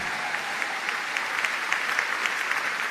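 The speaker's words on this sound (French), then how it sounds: "Acclame Jésus-Christ si tu as compris quelque chose." A church congregation applauding during a sermon, steady clapping at moderate distance with a few louder claps standing out, no distinct cheering voices.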